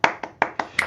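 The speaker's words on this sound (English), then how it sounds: "Tux, can you give the applause?" A canned applause sound effect on a podcast, heard as about five short, sharp bursts of clapping in quick succession, fairly close and clear.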